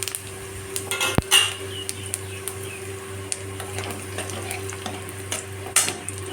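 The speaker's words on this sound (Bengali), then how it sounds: "তেলটা আমার গরম হয়ে গেছে তেলে ফোড়নে দেব দুটো তেজপাতা চারটে এলাচ এক চামচ জিরে আর চার টুকরো ছোটো ছোটো দারচিনি" Bay leaves, cardamom pods, cumin seeds and cinnamon pieces drop into hot oil for tempering, giving a soft sizzle beneath sharp metallic clinks of a spatula against the pan, with a few louder knocks.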